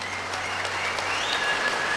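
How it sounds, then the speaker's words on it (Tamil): An audience claps sparsely and half-heartedly, a thin, even patter of applause that holds steady throughout with no talk over it. "குறைவான கைத்தட்டல்."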